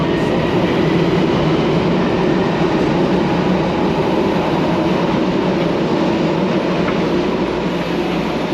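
A Miami Metrorail train rumbles steadily at close range, a continuous loud low roar of rolling wheels and motors with no pauses or voices.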